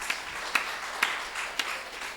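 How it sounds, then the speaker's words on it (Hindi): A few sparse, separate claps from a lecture audience, four soft sharp taps spaced about half a second apart over a quiet background with no talk. "ताली बजा दीजिए एक बार।"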